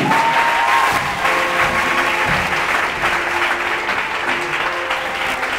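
Congregation clapping steadily and loudly throughout an evangelical sermon at a night vigil, a dense sustained wash of applause with no pauses.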